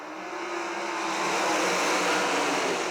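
A pack of race cars roars off at the start of a heat race at Millstream Speedway, a dense, loud engine wash that swells steadily as they accelerate away.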